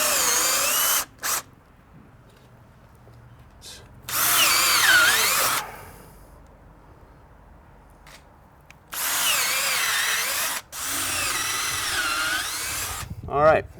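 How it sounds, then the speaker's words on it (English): A power drill bores holes into a log for shiitake plug spawn in loud, high whining bursts of a second or several seconds. Quiet pauses separate the bursts as the drill moves around the log. "we've got our holes drilled"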